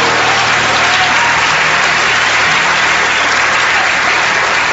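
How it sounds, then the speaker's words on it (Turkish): A theatre audience at a Turkish comedy stage show breaks into loud, dense applause, with sustained clapping filling the whole stretch evenly and no pauses. "Floransa halkı ne alkışlıyorsunuz herifi?"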